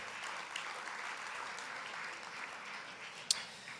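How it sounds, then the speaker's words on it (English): An audience at an annual dinner applauds steadily at moderate volume, with one sharp click near the end. "Let's give them a big round of applause."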